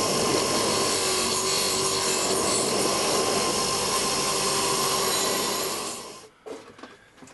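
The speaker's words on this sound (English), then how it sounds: "So I'm just going over all the surfaces I can get to with a wire wheel in the grinder" Angle grinder fitted with a wire wheel smoothing the edges of 316 stainless steel roller carriages, a continuous harsh abrasive whir for about six seconds, then a few scraping bumps as it winds down.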